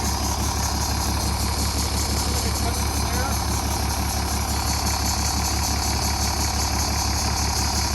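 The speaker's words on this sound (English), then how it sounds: "So it appears the fan clutch is complete. It's really, really noisy. The bearings are gone." A bus engine running with a failing, noisy fan clutch whose bearings are worn out, giving a loud, steady, close mechanical drone with a constant rattling hum throughout.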